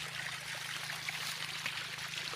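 Water from a motor pump runs steadily onto a garlic field on a farm, a continuous close trickling and splashing stream with a low steady motor hum underneath and no voices.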